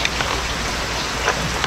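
Steady, dense rainfall patters on surfaces close by, a continuous loud hiss with scattered heavier drops and no talking.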